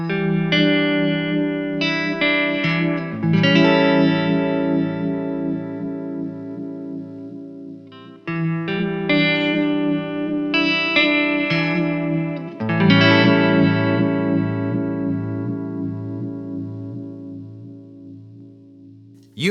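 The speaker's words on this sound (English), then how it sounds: "The bias here calibrates just how hard we're pushing that bulb, and the difference is pretty easy to hear." AXiom Omega-Vibe OV-1 vibe pedal with its bulb bias being adjusted, giving a sustained guitar-like tone with a swirling, chorus-like throb; two long loud phrases with a brief dip in between and no talking.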